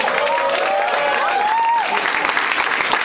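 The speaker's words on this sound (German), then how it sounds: "Einen fetten Applaus." Loud, even applause from people at a handball club press conference welcomes a player forward, with a brief voice over the clapping.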